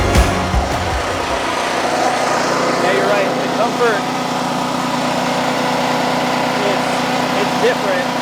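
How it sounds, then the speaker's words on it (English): A lawn mower engine runs steadily through the whole stretch at the start of a mowing job, loud and close, with a continuous drone and bits of voices underneath. "Yeah, we got a mow today."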